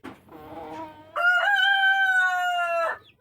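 A Barred Plymouth Rock crossbreed chicken in a backyard flock gives a loud, close, drawn-out crow after a brief lower clucking call. No voices are heard.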